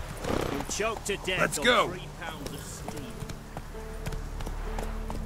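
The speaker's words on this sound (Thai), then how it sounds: "เดี๋ยวขี่ม้าไปฮะ" A horse gallops in The Witcher 3 with rhythmic thudding hoofbeats at a steady pace, under a voice speaking over the first half.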